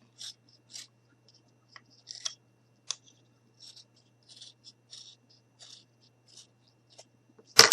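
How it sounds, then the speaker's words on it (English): Scissors snip in a string of short, crisp cuts with pauses between them, close and quiet, while making a baby shoe keychain, ending in a louder rustle. "take my scissors, and we're going to cut"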